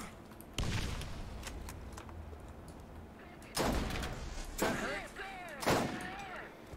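Gunfire in the video game Borderlands: four separate loud shots, spaced a second or more apart, each a sharp crack with a short ringing tail over a low background of game ambience.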